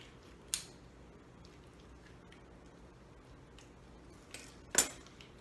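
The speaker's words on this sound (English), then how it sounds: "I'm gonna see if I can get in here with these scissors and cut this out" Kitchen scissors snip through a partly frozen whole chicken: two sharp, brief cuts about four seconds apart, close and fairly quiet, over a faint steady background with no talking.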